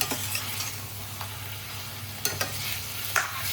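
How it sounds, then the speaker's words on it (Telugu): Raw chicken is stirred and fried in a pan for gongura chicken, a steady close sizzle with a low hum beneath it and a few sharp scraping stirs of the spoon. "చికెన్ వేసేసుకుంటున్నాను. ఒకసారి కలుపుకున్నాము."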